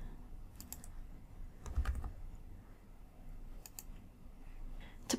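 Typing on a computer keyboard while entering a variable name into a form, with short bursts of close, light key clicks separated by pauses over a faint room hum.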